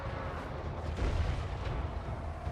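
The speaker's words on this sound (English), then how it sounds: "The Hell Cannon." A Hell Cannon artillery piece fires in Total War: Warhammer 3, giving one deep, muffled boom about a second in. The boom sits over a low, steady rumble of battle ambience.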